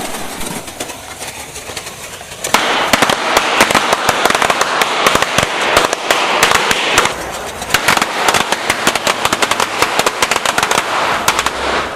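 Firecrackers linked by a long fuse burst in rapid, irregular succession inside a stacked model tower, a loud, dense crackle of sharp pops that starts hissing and then rattles on continuously like gunfire, with no talk.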